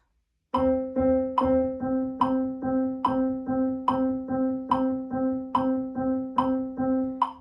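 A steady series of evenly spaced plucked notes repeats the same pitch in a regular rhythm, each with a sharp attack and short decay.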